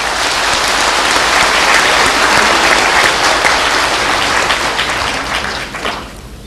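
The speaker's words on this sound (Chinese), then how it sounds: "应该给我们自己一个最热烈的掌声吧" Audience at a Buddhist teaching session in a convention hall bursting into loud, sustained applause that fills the room for several seconds, then fades out at the end.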